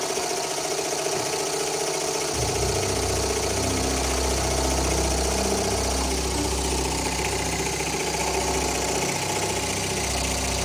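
A Bing toy steam engine with added bushings and a modified two-port exhaust valve system runs steadily, giving a continuous close mechanical chugging hum with a rhythmic low-end beat that picks up after a couple of seconds.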